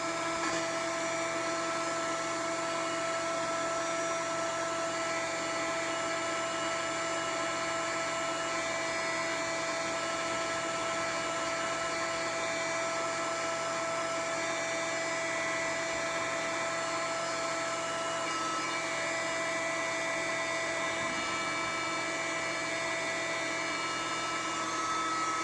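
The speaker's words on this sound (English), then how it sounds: "It takes a little while for the RO machine to get all the sap in this." A reverse osmosis machine processes maple sap for maple wine, giving a steady, loud mechanical whine and hum with fixed tones that runs unbroken throughout, with no talk.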